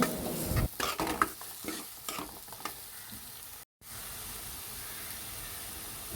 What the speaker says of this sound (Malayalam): ഈ എണ്ണയ്ക്കകത്ത് കിടന്ന് ഇതൊന്ന് വഴണ്ട് കിട്ടണം അതുപോലെ നല്ല രീതിക്കൊന്ന് ഫ്ലെയിം കുറച്ച് വെച്ചിട്ട് വേണം ഇളക്കി കൊടുക്കാൻ